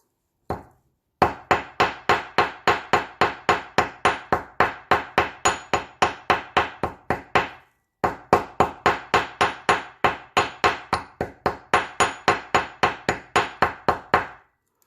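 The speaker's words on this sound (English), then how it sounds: "So we're tapping enough to make decoration dents, but not to squash it." A small hammer taps metal bracelet links in rapid, steady strikes, two long runs of sharp ringing blows separated by a short pause, close and alone.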